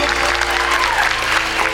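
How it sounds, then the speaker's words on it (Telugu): At an anti-drug awareness drive, an audience breaks into loud, sustained applause, many hands clapping together in a dense, continuous burst that fills the room. "గట్టిగా చప్పట్లు తట్టవలసిందిగా కోరుతున్నాను."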